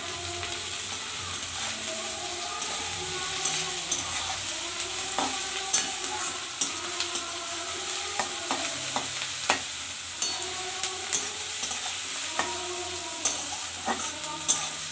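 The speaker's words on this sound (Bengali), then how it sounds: "আর এই পেঁয়াজটা আমি লাল লাল করে ব্রাউন কালার করে ভেজে নিব।" Sliced onions, already salted, sizzle in hot oil in a pan as they fry toward brown, with a steady loud hiss broken by repeated scraping clicks of stirring.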